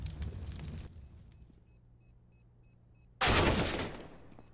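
Bursts of AK-47 gunfire from a competitive tactical shooter match, loud broadband blasts at the start and again near the end, separated by a quieter stretch with faint clicks and tones.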